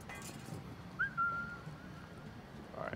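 A clear human-style whistle used to lure an enemy in the stealth game Assassin's Creed Freedom Cry, one rising then sustained note heard alone over a low ambient game bed.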